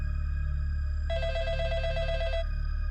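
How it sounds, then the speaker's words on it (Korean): An office telephone rings once in a rapid warbling bell trill lasting just over a second, heard over a steady low hum and background drone. "갑자기 그 전화기가 또 울린다."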